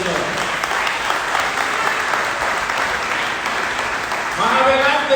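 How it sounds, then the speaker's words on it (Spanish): A church congregation applauding, a dense, steady wash of many hands clapping at close range, with a voice rising over it near the end. "Si va a aplaudirle, déle fuertes aplausos al Señor."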